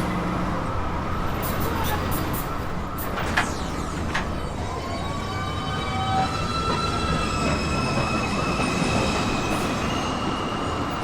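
A New York City subway 2 train pulls into the station, a loud continuous rumble of wheels on rail with long metallic squeals rising and fading over it, close by.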